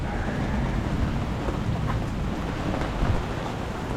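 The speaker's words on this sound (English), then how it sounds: "It looks like now it's just rain, no?" Rain falling steadily during a storm on an anchored sailboat along the Intracoastal Waterway, a dense continuous hiss with low rumbling, close and fairly loud, with no talk.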